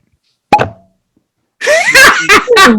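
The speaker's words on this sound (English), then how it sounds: "Heidi, once again, has bought the Cork Pop Challenge, brand new bottle, and she wins" A single sharp pop from the cork of a brand-new bottle of Sazerac bourbon being opened, loud and close, followed after a pause by people talking and laughing.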